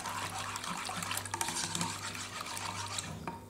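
Carob drink ingredients being stirred and mixed together, a steady close-up swishing of liquid with small clinks and splashes continuing throughout, with no talking.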